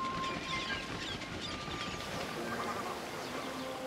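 Dense chorus of waterbirds, ducks among them, calling across the wet-season floodplains of Kakadu in northern Australia, a steady broad wash of overlapping calls with no single bird standing out.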